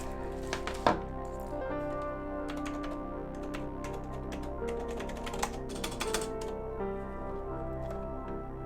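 Fingers press the keys of a BBC Master computer keyboard in a quick run of light, crisp clicks and taps, close and fairly quiet, with no voices.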